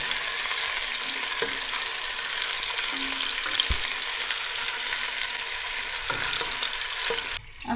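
Chicken pieces sizzle and fry in a pan with softened tomatoes for bhindi chicken masala, a steady crackling hiss interrupted by occasional scrapes and knocks of stirring.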